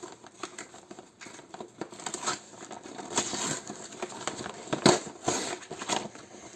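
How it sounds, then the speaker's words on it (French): A Renault Trafic model car is unboxed, with close, irregular crinkling and tearing of packaging, soft rustles and small clicks coming in uneven bursts, with no talking. "Nous allons donc déballer ça ensemble."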